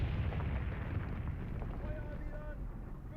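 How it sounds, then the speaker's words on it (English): Artillery shells in the Graviteam Tactics war game burst in distant trees as low, rumbling explosions that roll and fade, with someone talking over them. "So our artillery's landing again in the trees over there"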